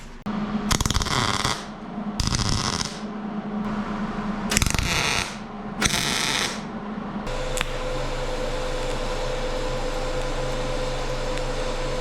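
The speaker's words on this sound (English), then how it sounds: "I'm gonna tack these together, top and bottom, and then probably TIG weld both sides." Tack welding on a fabricated fuel tank for an S30 Datsun: four short, loud buzzing bursts of the welding arc, then a steady machine hum takes over.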